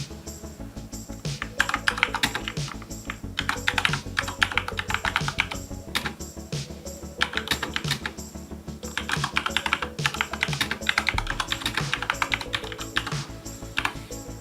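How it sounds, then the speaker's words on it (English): Rapid clacky typing on a Corsair K70 RGB Rapidfire mechanical keyboard, dense bursts of close keystrokes with brief pauses between runs, no voices. "Here's a little sound sample of how the keyboard sounds."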